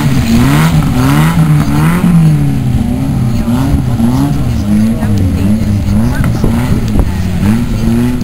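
Several race cars run at an ice race in Chetek, their engines droning and revving with shifting pitch, loud and continuous, while a voice talks over the din.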